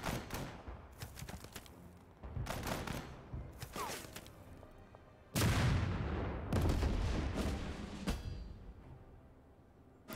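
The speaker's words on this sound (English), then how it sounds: "That artillery attack did a number." A Total Tank Generals artillery barrage on a Stalingrad battlefield arrives as a series of heavy booms and rumbling blasts, spaced a second or two apart. They are fairly loud, and one big impact hits midway, followed by several more volleys.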